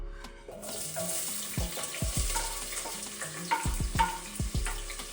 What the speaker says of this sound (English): in a dry pot, we add a half cup of canola oil. Next, we add a sliced onion